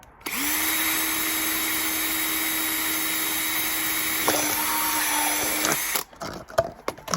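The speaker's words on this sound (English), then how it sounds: "I'm going to take the smaller drill and drill a hole in the top" A small power drill whines steadily while boring a hole through a plastic bottle top, the motor tone holding for several seconds, dipping briefly as the bit bites, then cutting off into a few clicks and handling noises.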